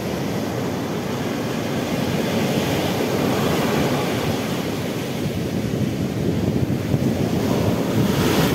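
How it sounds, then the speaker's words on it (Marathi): Rough, churning sea on a Goa beach: big waves roar and break continuously, loud and close, with heavy wind buffeting the microphone throughout. "गोव्याच्या किनारी समुद्र खवळलेला आहे. बघू शकता किती मोठाल्या लाटा आहे."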